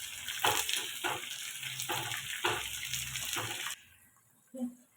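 Curry leaves and fenugreek seeds are stirred and fried in homemade hair oil, giving a soft crackling sizzle broken by rhythmic stirring that stops abruptly, followed by a single faint clink.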